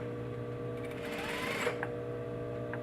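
A sewing machine runs steadily at an even hum, edge stitching a fly front facing on a garment, its needle ticking in a constant close whir with a faint click near the end.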